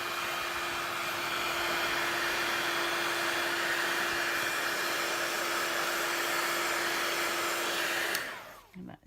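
Hair dryer blowing steadily on damp watercolour card to dry it before embossing, a loud continuous whir with a high tonal hum that runs unbroken for about eight seconds and then cuts off abruptly, leaving only faint small handling sounds.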